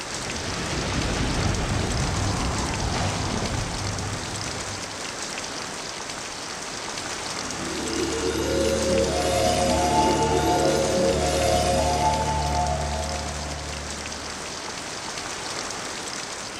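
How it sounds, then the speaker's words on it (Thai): Steady, even rain patters throughout; partway through, a low droning hum rises beneath the downpour and lingers before fading. "มีฝนตกพรำตลอดเวลา"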